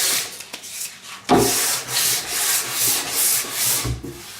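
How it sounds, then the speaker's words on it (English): Light hand sanding of a wood workpiece in a shop: repeated rhythmic rubbing strokes, close and clear, several back-and-forth passes with no talk. "it's just a light sand."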